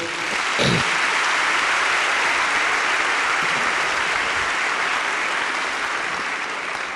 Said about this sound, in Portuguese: Vamos aplaudir o Jonas.